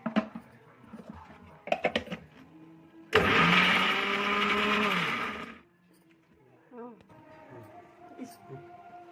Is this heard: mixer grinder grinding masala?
yes